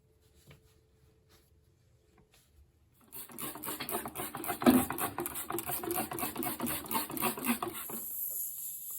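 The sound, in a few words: scraping old wax off a toilet flange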